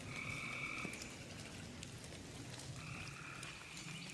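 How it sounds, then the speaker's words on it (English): Frogs croak in a large pond that was once three small ponds, a dense, continuous chorus of calls spread over the whole stretch with steady trilling bursts at moderate distance. "Frogs are having fun."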